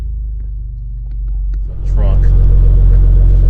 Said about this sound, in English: put it on the brake, and this car just throaty, just boom, comes to life